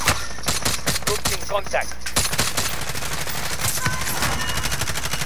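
Rapid gunfire in a shooter video game: loud, dense volleys of shots rattle almost without pause while players talk over them.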